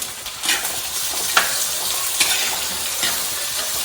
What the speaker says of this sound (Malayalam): ഇനി നമ്മുടെ ഉള്ളി വെളുത്തുള്ളി എല്ലാ ഐറ്റംസ് നമ്മൾ വെച്ച് കൊടുക്കുന്നത് ഇങ്ങനെ അത് വഴറ്റി അടിപൊളിയാക്കി വെക്കണം